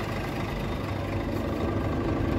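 A truck engine idles while it powers hydraulics, giving a steady, moderately loud low drone with a rough, even texture and no voices.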